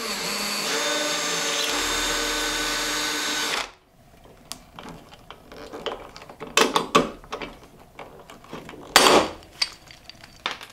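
A drill grinds steadily through a piece of scrap metal being shaped into a latch for a homemade hot tent stove, then cuts off, followed by scattered clanks and handling knocks of metal.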